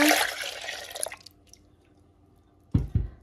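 Warm milk pours into a bowl of brioche dough with cracked eggs, a brief splashing stream that tapers into a few drips, then two dull knocks close by.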